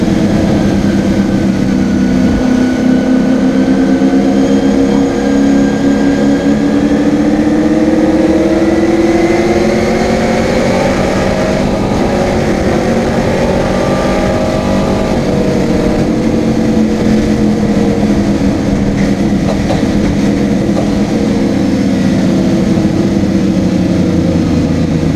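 Racing cars, a VW Scirocco and a Ford Fairmont, roar continuously at close range along a highway circuit, their engine tones rising and shifting as they accelerate, loud and unbroken.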